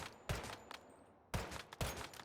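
Gunfire from the Dusty in a video game, heard as two close, loud bursts of rapid shots about a second apart, each followed by a short ringing tail.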